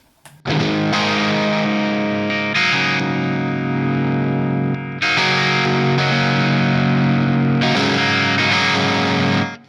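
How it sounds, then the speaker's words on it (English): A loud, thick fuzz-distorted electric guitar through a 2N5088 transistor fuzz pedal plays sustained chords, cutting off and restarting a couple of times, with buzzing saturated tone throughout. "And let's engage the fuzz."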